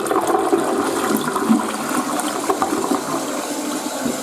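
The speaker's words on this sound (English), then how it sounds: "Alright, now let's see the tornado flush." A TOTO Drake toilet runs its tornado flush, a loud, steady rush of swirling water, close by, for the full length.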